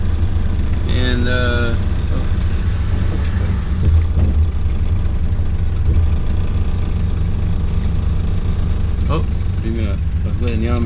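A car on a rural road near Amish riders on the way to a farmers market, its engine rumbling steadily and close, with a brief horn-like tone early and someone talking over it.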